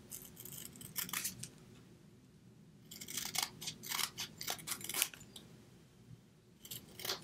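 Scissors snip through scraps of craft paper and card in close, crisp bursts, a few quick cuts, a pause, then a longer run of snips and another short burst at the end, with no talking.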